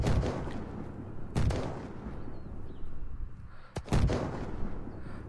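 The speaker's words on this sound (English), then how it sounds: "Is this a sniper battle going on?" Sniper gunfire in the video game Unturned, with three heavy, booming shots spaced a couple of seconds apart, each trailing off into a rumbling echo over low background noise.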